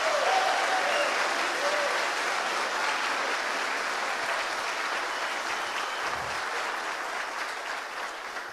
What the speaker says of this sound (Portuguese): Você pode aplaudir Jesus com alegria